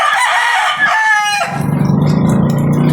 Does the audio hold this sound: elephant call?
no